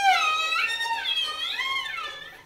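A violin plays with an overly wide, uneven vibrato, its high sustained notes wobbling and sliding in pitch from too much arm movement, heard solo and close.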